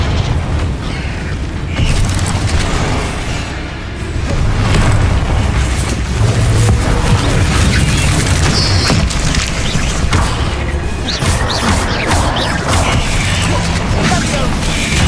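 Continuous booming fire-spell blasts and crashing combat effects in Hogwarts Legacy fill the scene loudly, with rumbling low end and overlapping impacts throughout.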